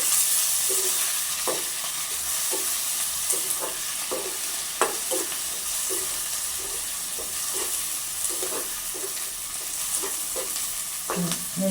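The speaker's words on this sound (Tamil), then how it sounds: "வெங்காயம் பச்சை மிளகாய் இந்த வடிவாக பொரிஞ்சிட்டுது" Sliced onions and green chillies fry in a pan of oil for onion-folded roti: a continuous soft sizzle broken by a regular run of light spatula taps and scrapes, close up, with no talking.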